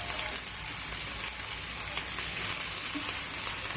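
Chopped onions and green chilli pieces frying in hot oil, giving a steady, even sizzle that hisses throughout without pause or voices.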